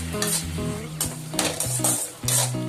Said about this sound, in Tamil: ஒரு 5 நிமிஷத்துக்கு ஃப்ளேமை ஃபுல்லாக வச்சு கைவிடாமல் நல்லா ஃப்ரை பண்ணிக்கலாம்.